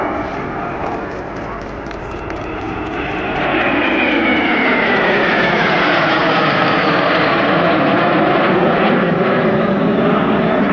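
A twin-engine jet trainer from the Salon-de-Provence air force academy passes at an airshow, its engine roar loud and steady, swelling after a few seconds and holding with a sweeping tone as it flies by.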